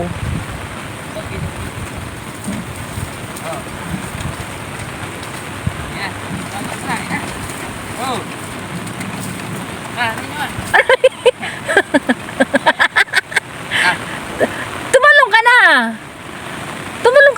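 Heavy rain falls during a rainy-season rice harvest, a dense, constant wash of noise. Bursts of wind buffeting and handling knocks come through near the end, and people talk throughout.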